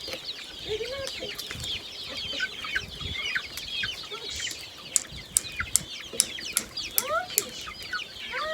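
Chickens cluck and squawk in a coop, a flock of birds calling in overlapping bursts at close range, with occasional wing flaps and sharp knocks scattered through.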